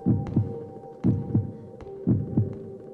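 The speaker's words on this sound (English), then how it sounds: "Why is his heart beating?" In a Pennywise horror game for iOS, a heartbeat sound effect thumps in a slow, steady lub-dub rhythm, three double beats in three seconds, loud over a low hum, with no talking.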